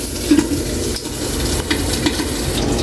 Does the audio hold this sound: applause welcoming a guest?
no